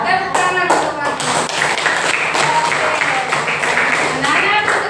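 Children clapping their hands together in a classroom, a dense patter of many small hands that runs steadily for several seconds, with a few young voices mixed in.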